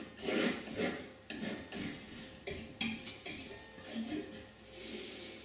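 Palette knife dragged in crossing strokes through oil paint on canvas while blending a poppy painting, a soft rasping scrape repeated in short irregular passes, close and fairly quiet.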